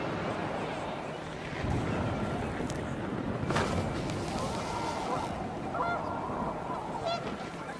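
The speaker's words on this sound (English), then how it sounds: "panicked geese appeared and quickly went" Panicked geese honk in the What Remains of Edith Finch video game as wind picks up, their calls scattered over a steady windy wash with brief louder bursts.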